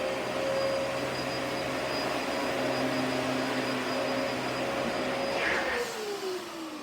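A Dyson DC-14 upright vacuum cleaner from around 2005 runs with a steady, loud motor whine and airflow roar. Near the end the pitch drops as the motor begins to wind down.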